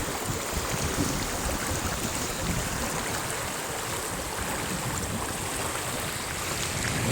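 Floodwater rushes across a road beside farm fields in a flooded village. The steady, loud wash of moving water continues throughout with no voices.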